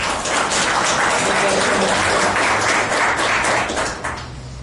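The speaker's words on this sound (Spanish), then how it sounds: "Lo recibimos con un caluroso aplauso." A forum audience at an ISSSTE pensions event applauds warmly as a guest is welcomed, a dense, even wash of clapping that holds steady and then tapers slightly at the end.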